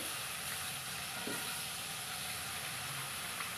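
Water poured into a hot pan of fish sour curry made with katla fish, potato, tomato and black lentil bori sizzles in a steady, dense hiss that continues unbroken throughout.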